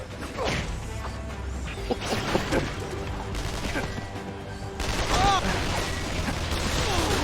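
Rapid gunfire and bullet impacts in Spider-Man: Shattered Dimensions during the Deadpool level: a loud, dense barrage of cracks, smashes and whooshes, with character voices speaking over the action.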